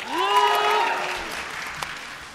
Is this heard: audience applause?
yes